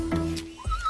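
A startled horse gives a sharp neigh set off by camera flashes, close and loud, with a rising whinny and a brief hoof clatter.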